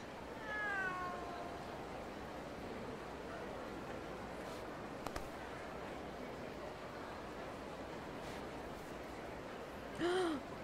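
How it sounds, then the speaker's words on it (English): Cat meowing in the video game Like A Dragon Gaiden, one drawn-out meow at the start and another near the end over a steady ambient background hum. "Oh, it's a cat."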